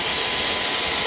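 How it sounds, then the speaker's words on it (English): Two high blower cooling fans run steadily on a servo unit in a lab, making a continuous, even broadband whoosh at close range. "Got the fans running. Two high blower fans for the unit to keep it cool."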